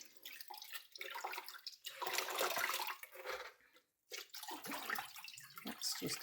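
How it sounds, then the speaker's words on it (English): Cold tap water running and splashing while dyed fabric is rinsed by hand, a close, soft rushing with brief pauses and changes in flow. "The final part of the dye process is to rinse your fabric until"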